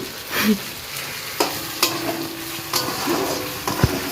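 Two whole onions fry in a pan for khichuri, a low sizzle broken by about five sharp scraping strokes of stirring.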